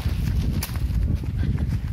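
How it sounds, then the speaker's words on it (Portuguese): A horse on a rural plot of land clip-clops nearby with its hooves striking the ground in an uneven walking rhythm against low outdoor background noise. "Olha o cavalo do seu Zé aqui, isso"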